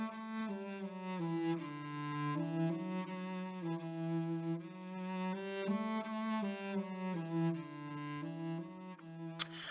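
A solo cello plays a slow, legato Baroque-style melody with smooth bowed notes gliding between pitches, fairly quiet and unaccompanied.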